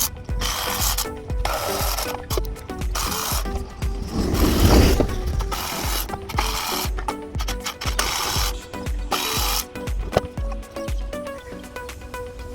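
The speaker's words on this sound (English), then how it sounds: "I think we'll do this with electric ratchet." An electric ratchet works the 10 mm intake manifold bolts on a 2016 Ford Transit Mk8, its motor whirring in repeated bursts with clicking mechanism and metallic rattling close up, no talking.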